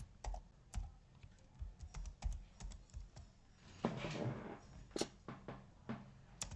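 Fingers tap quickly on a computer keyboard, a close, uneven burst of light key clicks with short pauses between words and a slightly louder flurry near the end.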